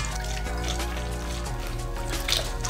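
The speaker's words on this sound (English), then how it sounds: "now we're gonna pour in our extract." Pandan extract pours and trickles steadily into a bowl for a few seconds while making Lao khao lod song (cendol), with soft dripping and splashing, close up over background music.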